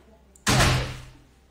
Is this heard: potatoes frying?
no